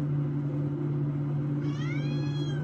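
A pet cat meows once near the end, a rising, wavering cry over a steady low household hum that runs throughout.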